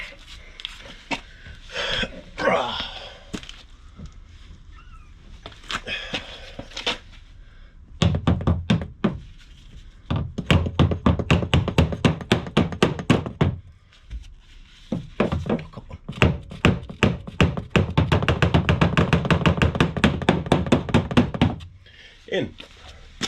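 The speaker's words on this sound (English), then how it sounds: "Just get a hammer and knock that one in." Rapid bursts of hammer blows knocking a part into a rusty Subaru WRX chassis under patch-welding repair, close and loud, coming in several long runs separated by pauses.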